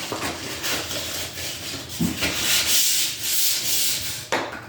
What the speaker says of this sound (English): taking some 320 grit sandpaper and sanding it